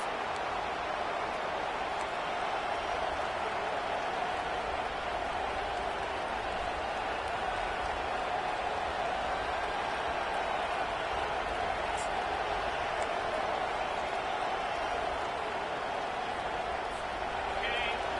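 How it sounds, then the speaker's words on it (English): A football stadium crowd at a Virginia Tech game roars in a dense, sustained wash of cheering, with a commentator talking over it. "This crowd, full throat, splitting the eardrums and letting them know it's going to be a long day."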